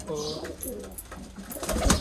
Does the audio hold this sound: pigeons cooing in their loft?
yes